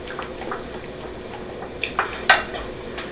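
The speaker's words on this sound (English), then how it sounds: "And I'm going to mix them together." Egg yolk and mayonnaise are stirred together in a bowl, with soft scraping and a few light clinks of utensil against the dish, close and fairly quiet.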